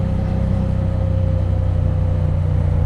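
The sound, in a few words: Triumph Bonneville T100 motorcycle engine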